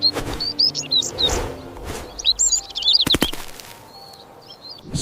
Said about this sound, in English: Starly, a tiny bird with a big voice.